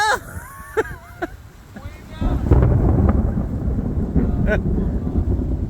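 Thunder rumbles loudly and broadly during a thunderstorm while fishing, a sustained deep roll that swells after a few seconds of quieter wind and rain, with brief human voices and whistle-like sounds at the start.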